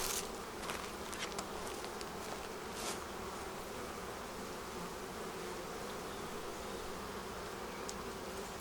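Honey bees swarm around an open beehive troubled by small hive beetles, giving a steady, dense buzz that fills the whole clip, with a few brief sharper sounds as bees pass close.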